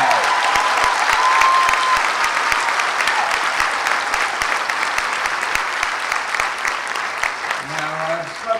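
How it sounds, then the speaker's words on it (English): A large crowd at the Queensborough Community College 2005 commencement ceremony breaks into loud, continuous applause, a thick steady wall of clapping that carries on for several seconds with little change. "Give them a round of applause."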